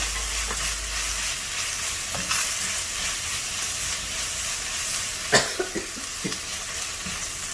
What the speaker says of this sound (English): Now we are going to add in the Thai basil. Give it a quick stir.